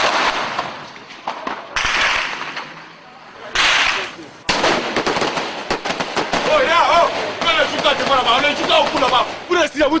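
Repeated gunfire bursts and sharp cracks during the chaotic arrest of Laurent Gbagbo, mixed with shouting voices and crowd commotion, loud and close with gaps between volleys.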